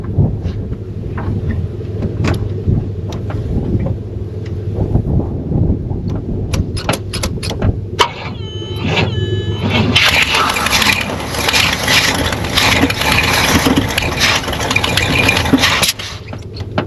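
A 500 cubic inch engine in a front-wheel-drive mid-engine project car idles and then revs up louder, with a steady rumble and hiss from an exhaust leak and sharp clanks in between.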